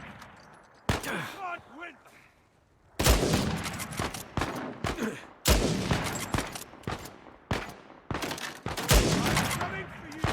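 Bursts of gunfire in a third-person action game, Uncharted 4, come in loud sharp volleys with short gaps between them, while voices shout over the shooting.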